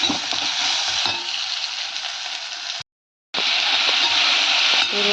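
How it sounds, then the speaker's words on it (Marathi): Tomato and potato frying in a kadai, a steady loud sizzle with stirring that stops briefly near the middle and then resumes just as strong. "टोमॅटो आणि बटाटा ते मी टाकून घेतलेला आहे कढईमध्ये"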